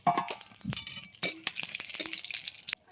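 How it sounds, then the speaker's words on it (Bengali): Dried red chillies and a bay leaf dropped into hot oil for tempering, a brisk crackling sizzle with sharp pops and spits close by, in short uneven bursts. "ফোড়নে দিয়ে দিচ্ছি শুকনো লঙ্কা, তেজপাতা ফোড়ন"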